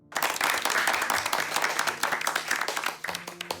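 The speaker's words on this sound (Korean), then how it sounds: "혜주에게도 우리 한번 박수 쳐주자." Classroom of children clapping in a horror radio drama scene, a brisk burst of many hands that swells quickly, holds for a few seconds, then thins out and fades near the end.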